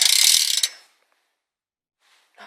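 A burnt BMX rear hub clicks in a fast, loud ratcheting burst as the wheel spins freely, fading out after under a second, then a faint click and a short rougher ratchet return near the end.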